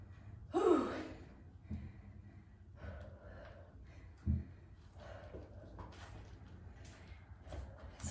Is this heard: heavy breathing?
yes